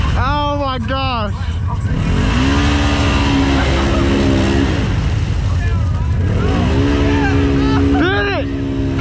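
Off-road lawnmower with a worn belt and broken gas pedal, its small engine revving hard at full throttle at an off-road park, droning loud and steady with rising pitch sweeps while people shout excitedly over it.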